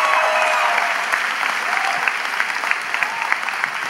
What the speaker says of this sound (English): I think we can clap a little louder for that.